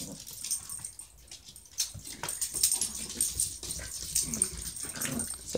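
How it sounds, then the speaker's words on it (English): Dogs playing indoors, soft whimpers, whines and snuffly breathing at close range, with irregular bursts of movement. "See, the dogs are up to mischief."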